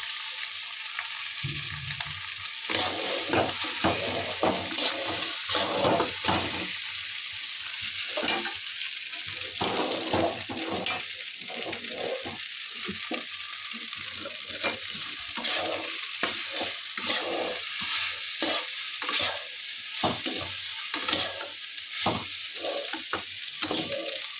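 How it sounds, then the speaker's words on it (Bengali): Pasta frying in a pan in a home kitchen sizzles steadily while a utensil stirs and scrapes through it in frequent short strokes, close and constant for the whole stretch, with no voices. "দেখো আমি পাস্তাটা করছি"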